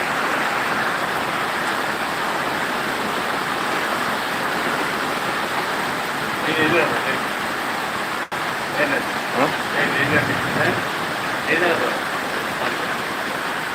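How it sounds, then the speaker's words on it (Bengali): Steady, dense hiss of heavy rain in Sirajganj, Bangladesh, fills the whole stretch, with faint voices murmuring under it partway through. "প্রচন্ড প্রচন্ড বৃষ্টি হচ্ছে"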